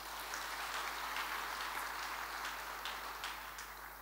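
A church congregation applauds in a faint, steady wash of many hands clapping together, dense and continuous, a little distant, with no voices standing out.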